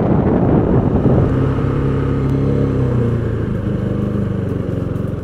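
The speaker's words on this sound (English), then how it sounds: "My only complaint with this bike is a very slight rattle on the petrol tank." A KTM RC390 motorcycle engine with a slight petrol tank rattle runs close and loud, a steady idle-like drone with a faint mechanical buzz over it, holding even before easing slightly toward the end, with no talk.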